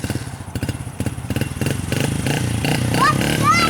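A small 50cc motorcycle engine putters in quick, uneven pulses close by, then rises into a steadier, busier drone as it picks up speed, with a brief chirp of higher sound near the end.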